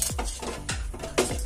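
A spoon stirs potato bonda filling in a pan, scraping and clanking against the metal in three quick, distinct strokes, close up and with no talk.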